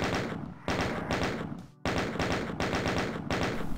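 Gunfire in Doom II on ultraviolence difficulty, repeated loud bursts of rapid shots in quick succession, broken by brief pauses, with thuds mixed in and no voice over them.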